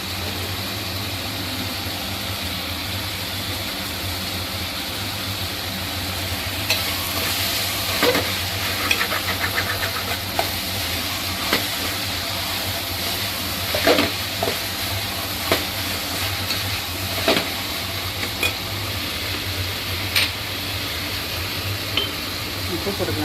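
Ingredients sautéing in a pan for a Sunday meal, the continuous sizzle punctuated by repeated scraping clinks of a spoon stirring, close and steady over a low background hum.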